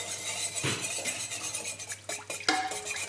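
A spoon stirs milk in a pot for homemade yogurt, scraping and clinking against the metal in quick repeated strokes, close and clear with no talking.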